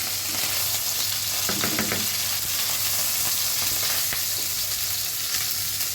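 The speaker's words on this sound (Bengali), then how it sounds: "মাছগুলো ভাজা হয়ে গেছে তুলে ফেলবো এবার" Fried fish lifted out of sizzling oil for a light summer curry, a continuous close crackling sizzle with a few clinks and scrapes as pieces are removed, no voices.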